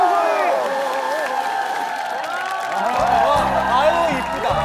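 Studio audience applause and cheering for a minyo folk singer on a Korean TV talent show, a loud, steady crowd roar with bright tonal music swelling in beneath it partway through.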